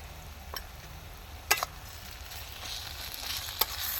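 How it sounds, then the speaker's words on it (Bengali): Ginger, garlic and chilli paste fries with browned onions in a pan, giving a steady low sizzle. A few sharp clinks and stirring scrapes punctuate it, with no talking. "তো পেঁয়াজটা ভাজা হয়ে গেছে এবার আদা বাটা রসুন বাটা লঙ্কা বাটাটা দিয়ে দিলাম"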